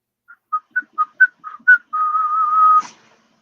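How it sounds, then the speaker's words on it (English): A person whistles a series of short, bright rising notes, about seven quick chirps, then holds one long steady tone that ends with a breathy release, clear and close with no talking. "Good whistle there"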